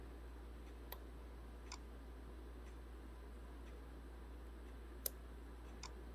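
On a 2006 Honda Civic, the AC clutch relay clicks on and off. A handful of sharp, faint ticks come at irregular intervals over a steady low hum, with one louder click near the end.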